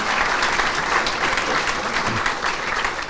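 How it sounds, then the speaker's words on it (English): Steady applause from an audience at a business ministry gathering, dense clapping that fills the room evenly for the whole stretch with no voices standing out. "So a round of applause for Dan, the great work he does here."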